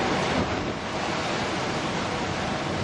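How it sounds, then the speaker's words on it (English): Strong northerly storm wind roars steadily and loudly at a Lindsborg castle, a dense continuous rush with gusty buffeting on the microphone and no voices. "The wind is definitely up from the north."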